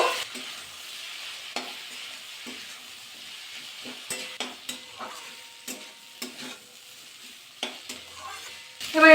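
Spices being stirred into a pan of pui (Malabar spinach) curry, with repeated soft scraping strokes over a low sizzle, close and moderately quiet, and a few light clinks near the end.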